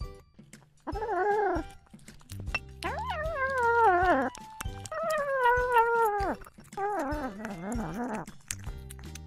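A cat meows repeatedly, several drawn-out, wavering cries close by, with short pauses between them.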